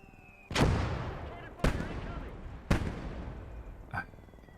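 Three heavy mortar blasts in the World War II game Gates of Hell, spaced about a second apart, each a loud deep boom with a long rumbling tail, followed by a fainter distant crack.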